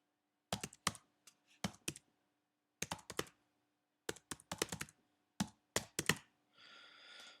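Bursts of computer keyboard typing while filling in a WordPress install form, quick clustered keystrokes in several short runs with pauses between, close and crisp, ending in a brief softer rustle; no talking.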